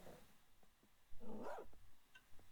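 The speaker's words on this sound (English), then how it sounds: "We're obviously in the dog biome." A dog barks in a Minecraft dog biome, a couple of quick low woofs followed by a louder yapping bark, quiet and game-like with no talk.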